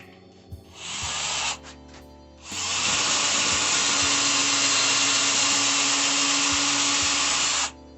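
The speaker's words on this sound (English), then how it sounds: "get that first pilot hole drilled" A power drill bores a pilot hole into wood for a DIY shelf. A short burst comes first, then a pause, then a long steady whine that holds loud and close for about five seconds before it cuts off.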